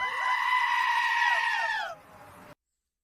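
A goat bleats in one long, quavering cry lasting about two seconds, loud and close, then fades into a brief soft tail before cutting to silence.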